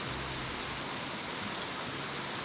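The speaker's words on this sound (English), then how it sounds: "as you can see, we've been rained out" Steady rain pours down outdoors on a homestead, a dense, even hiss of drops with no breaks, close and moderately loud throughout.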